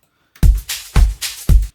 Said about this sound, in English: I used the parametric EQ to cut the kick out, otherwise it would sound like this